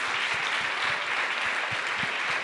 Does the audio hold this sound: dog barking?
no